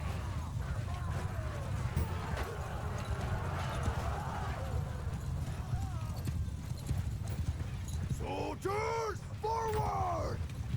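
Clattering hooves of galloping cavalry horses in the Mount & Blade II: Bannerlord battle game, a dense continuous rumble over battlefield noise, with several loud whinnies near the end.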